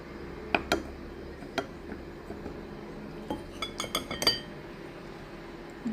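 Buttered biscuit crumbs are spooned into a glass dessert dish for a fruit cocktail dessert, giving scattered faint clinks and light taps of a spoon against glass over a quiet background.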